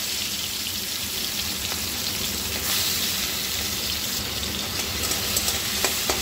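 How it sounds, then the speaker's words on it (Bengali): A small batch of shrimp fries lightly in a hot kadai for a mixed-vegetable shrimp curry, giving a constant close sizzle with faint scattered pops and no voices. "আমি চিংড়ি মাছটা ভাজার জন্য কড়াতে দিয়ে দিই"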